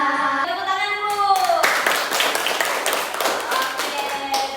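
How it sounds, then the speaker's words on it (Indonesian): Children in a classroom clap their hands together after singing, a busy, close patter of claps that begins after a few seconds of sung voices, with children's voices mixed in. "Tepuk tangan dulu."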